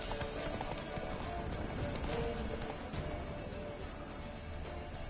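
Roach, the horse in The Witcher 3: Wild Hunt, trotting with a continuous clip-clop of hooves at a moderate, even pace, set against ambient game background sound.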